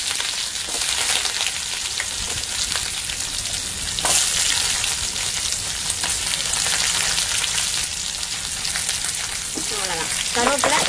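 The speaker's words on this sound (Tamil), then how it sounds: "கருவேப்பிலை, சின்ன வெங்காயம் ஓரளவுக்கு நல்லா வதங்கும்" Curry leaves and small onions sauté in oil with a loud, continuous frying sizzle, broken by stirring scrapes and a few sharper spattering bursts, heard up close.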